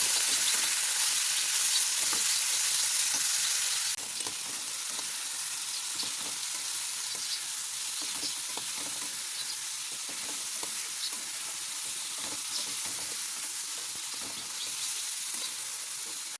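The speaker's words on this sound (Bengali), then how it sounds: "তো এটাকেই ফোড়ন দিয়ে করে দিচ্ছি হচ্ছে কি পটল আলুর ভাজা।" Pointed gourd and potato frying in a pan with tempering spices, a steady dense sizzle that runs loud and unbroken throughout, with faint stirring scrapes underneath.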